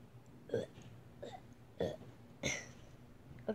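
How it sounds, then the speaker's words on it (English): Several short, throaty burps by a person indoors, about four separate belches spaced a second or so apart, fairly quiet and close. "This is my one last burp in this house."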